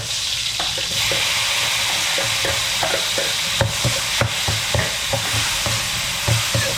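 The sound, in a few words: onions sautéing in a pan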